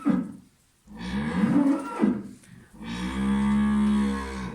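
Cows in a village pasture during a foot-and-mouth grazing ban, low resonant moos, three drawn-out calls in a row, the last long and steady, loud and close with no talk.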